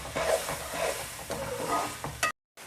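Chickpeas and spices being stirred and roasted in a pan for chana pulao, a close, gentle sizzle with scraping stirs that repeat at an uneven pace, ending in a brief cut to silence.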